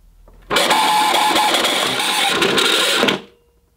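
An old National Capsule footstool vacuum cleaner's cable rewind mechanism spins up abruptly, whirring and rattling loudly for about two and a half seconds before cutting off, close and alone.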